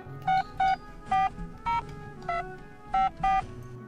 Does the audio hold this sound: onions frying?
no